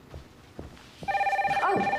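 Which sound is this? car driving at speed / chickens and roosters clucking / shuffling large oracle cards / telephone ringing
telephone ringing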